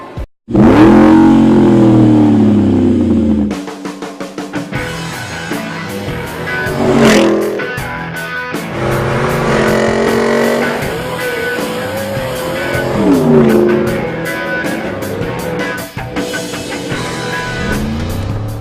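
A car fitted with a Borla performance exhaust revs loudly and repeatedly, its engine note rising and falling in strong surges with tire squeal mixed in, close and with no talking.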